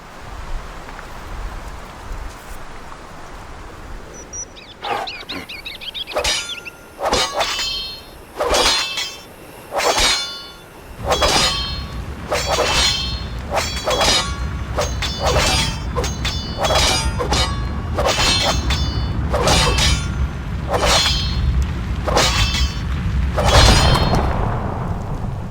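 Outpost building in Age of Empires II being attacked and destroyed, a rapid series of sharp crashing and shattering impacts that builds into a dense, loud stream of cracks and rumbling debris.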